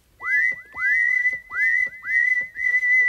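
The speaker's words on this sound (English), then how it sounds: "we get two chaps whistling there, don't we?" Synthesized whistles from the two oscillators of a Behringer Neutron synthesizer, one bending upward in pitch into each note, form a repeating pattern of short swooping whistle tones, clear and close with no talking.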